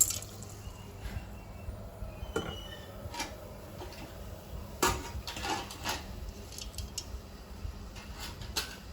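Rice goes into a pot of boiling water for a traditional South Indian rice dish, heard as scattered light clinks, ticks and drips at moderate level, with a soft bubbling bed underneath and no talking.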